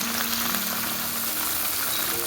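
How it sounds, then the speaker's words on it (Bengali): Okra (lady's finger) pieces frying in a pan, giving a steady, dense sizzle that runs close and unbroken for the whole short stretch, with no talk over it. "এবার ঢ্যাঁড়সটা আমি ভাজতে দিয়ে দিচ্ছি।"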